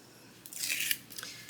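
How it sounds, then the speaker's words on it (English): Non-stick scissors snip through foam tape for a Halloween card craft, a single quiet crunching cut close by with a short trailing rustle. "Let me get out my non-stick scissors. Get that cut to size."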